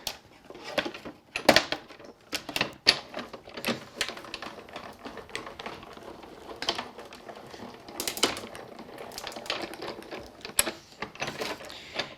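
A die-cutting machine running a craft die through its rollers, making a rapid, uneven clatter of clicks and mechanical rattles close by with no talking.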